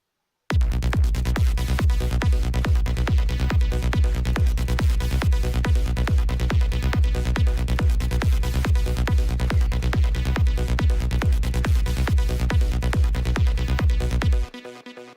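Sylenth1 psytrance lead patch named Psycho Lead playing over a driving kick and bass in a fast, relentless rhythm, loud and dense throughout, then cutting off near the end.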